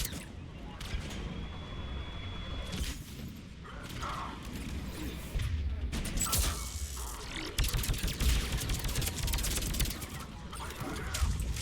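Gunfire and combat in the video game Mass Effect 3, scattered bursts of shots and clattering impacts mixed with mechanical noises, moderately loud over a busy background.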